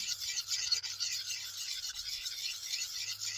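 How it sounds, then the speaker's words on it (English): A diamond plate sharpener rubs in circular motions along a steel axe blade, a soft, steady rasping scrape with a gently pulsing rhythm, close up and quiet, with no talking. "Hold the axe in one hand, take your sharpener, and make circular motions going up and down the blade of the"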